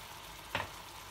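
A single short scrape of a spoon stirring cooked ridge gourd (dodka) with toor dal in a pan, a quick, soft burst in an otherwise quiet kitchen.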